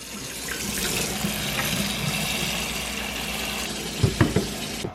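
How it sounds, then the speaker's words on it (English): Cold water runs steadily into a kitchen bowl to thaw a frozen sauce packet, a continuous close rushing flow, with a few soft knocks of the bowl or packet near the end. "we are going to submerge the sauce packet in a bowl of cold water to help thaw"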